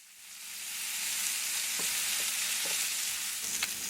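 Pork chops sear in a hot skillet with a steady, close broadband sizzle that holds level throughout, with a few small pops and crackles rising out of the frying.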